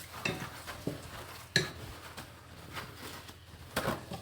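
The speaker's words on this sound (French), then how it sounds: "Voilà, je mélange bien ma sauce" A spoon stirring sauce in a pan on a stovetop, giving a few soft scrapes and sharper clinks against the metal, spaced irregularly over a quiet kitchen background.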